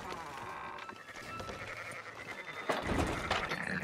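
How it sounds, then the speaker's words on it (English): Sheep in Red Dead Redemption 2 bleat in short wavering calls over a busy outdoor game ambience, growing louder near the end. "Fine sheep."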